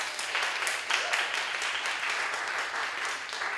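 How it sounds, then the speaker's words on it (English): Cabaret audience applauding, a steady, fairly distant wash of clapping that holds even for a few seconds with no talk over it. "a round of applause for the Cabaret of Dangerous Ideas"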